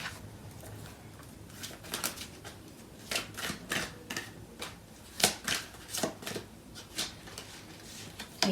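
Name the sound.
tarot cards being handled for clarifying cards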